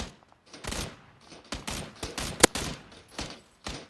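Rapid video game gunfire in bursts, several sharp shots spaced irregularly across the clip, one especially loud crack near the middle, with no talking.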